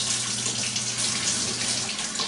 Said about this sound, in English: if I'm going to sell eggs at a farmer's market, I got to wash the eggs